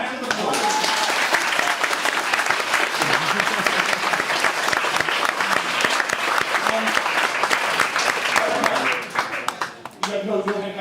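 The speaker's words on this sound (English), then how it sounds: "Give him a round of applause." Audience applause rings out for the winning bidder at an auction, a dense, sustained wash of many hands clapping close by that runs nearly the whole stretch before thinning near the end, with voices mixed underneath.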